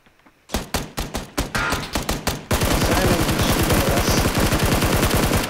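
Gunfire from the video game PUBG: a string of evenly spaced single shots, then a dense rapid automatic burst, sharp and loud at close range.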